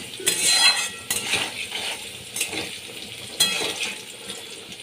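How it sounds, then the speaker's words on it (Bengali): Potatoes frying in a pan with turmeric and salt, heard as soft sizzling under a few clinks and scrapes of a utensil against the pan, with brighter stirring bursts at intervals. "লাল করে আমি ভেজে নিচ্ছি আলুগুলো"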